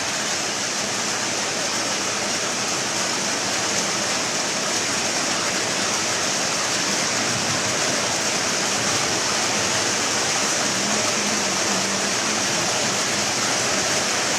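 Heavy monsoon rain pours down in a steady, dense roar, loud and unbroken throughout with no voices.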